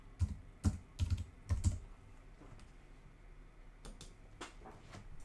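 Keys tapped on a Mac keyboard while entering a username and password, a few quick clustered clicks near the start followed by sparser, fainter taps.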